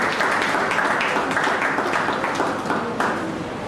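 Steady applause from an audience at a university event welcoming newly employed academic staff, dense clapping holding at an even level throughout without a break.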